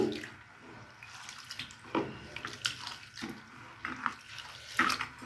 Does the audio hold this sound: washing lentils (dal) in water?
yes